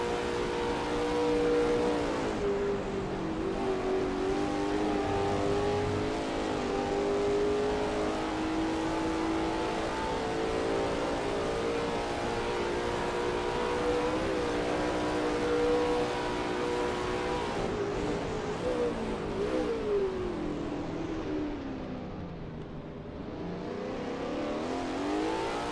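Sustained engine howl from a Lola T70 MkII Spyder racer lapping Spa in a video game, holding a loud steady pitch with shifts and a dip in revs near the end, no voices.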